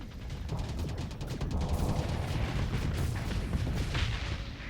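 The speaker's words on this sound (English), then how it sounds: "Finish it with the torpedoes." Torpedoes launched and striking a ship in the space combat game Starsector, a dense barrage of booming impacts and crackling blasts rolling continuously at close range.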